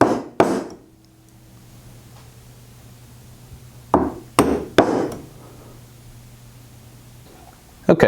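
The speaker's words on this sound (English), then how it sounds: "It also works well to place your chisel edge in the kerf that we have created and removing the remaining material." A wooden chisel clears the remaining wood from a handsaw kerf in sharp, separate strikes: two near the start, then a close cluster of three, with quiet gaps between.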